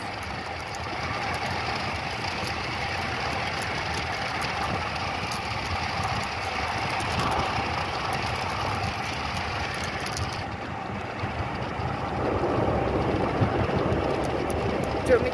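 Steady low engine drone of a machine ploughing a farm field, continuous and moderately distant, with wind and outdoor ambience over it.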